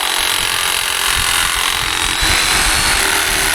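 A battery-powered saw with a weak battery cuts through wood, making a steady, loud, close-up grinding buzz that runs without a break.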